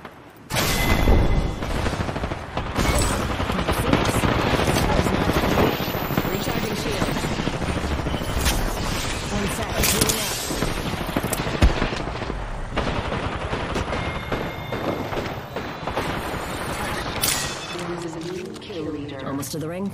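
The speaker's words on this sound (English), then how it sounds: "These are shooting at me." Gunfire in the battle-royale game Apex Legends: continuous rapid bursts and shots fill the scene almost throughout, loud and close, with a machine-like drone underneath and a voice talking over it.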